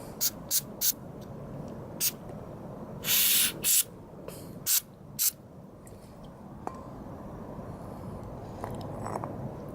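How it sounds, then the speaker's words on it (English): Several short hissing bursts of aerosol carburetor cleaner sprayed into a scooter carburetor, a few quick puffs then two longer blasts, close by over a low background rumble. "Spray in this little hole here."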